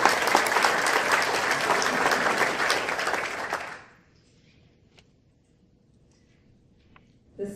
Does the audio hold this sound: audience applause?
yes